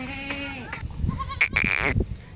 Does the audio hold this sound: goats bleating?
yes